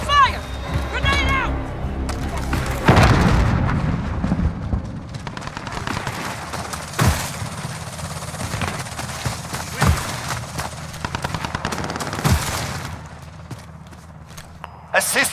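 Gunfire and grenade blasts from Call of Duty: Modern Warfare (2019) multiplayer, a steady crackle of shots with sharp explosive bursts throughout, under in-game radio voices and mixed with footsteps.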